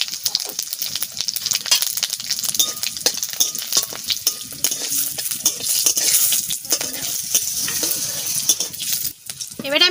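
Dry red chillies, whole garam masala and cumin crackle and sizzle in hot mustard oil, a dense, continuous close frying hiss with occasional stirring clinks, no talking.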